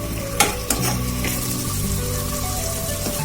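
Brinjal curry masala with tomatoes sautéing in a pan on high heat, a continuous close sizzle with two sharp stirring clanks early on and softer scraping after.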